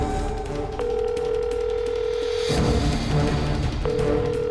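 A phone call placed on speaker rings unanswered, sounding as a steady electronic ringback tone that stops and resumes over a muffled indoor background, with no one speaking.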